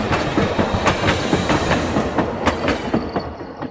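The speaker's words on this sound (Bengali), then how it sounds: "ট্রেনের চাকার শব্দ রাতের অন্যান্য শব্দের গলাটিকে ধরল।" Loud, rhythmic clickety-clack of train wheels rolling over rail joints, close by, with a continuous rushing roar underneath.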